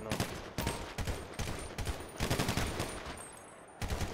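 Rapid bursts of gunfire from a GTA V zombie survival match, repeated volleys in quick succession over about four seconds, loud and close with brief gaps between salvos.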